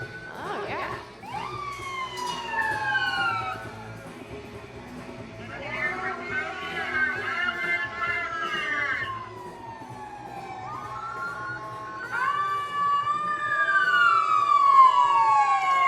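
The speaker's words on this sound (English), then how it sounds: "They've tuned their sirens up to a fine pitch." Several emergency vehicle sirens in a street parade wail with rising and falling tones, overlapping and sweeping loudly, with traffic rumble and some voices beneath.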